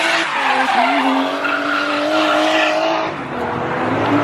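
A drifting car with squealing tyres, a loud sustained screech over the strained engine note that eases briefly near the end and then builds again.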